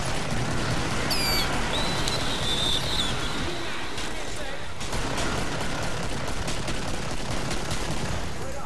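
Rapid gunfire in the Killing Floor game, dense crackling shots fired continuously under game noise, loud and close, with a few faint electronic chirps mixed in.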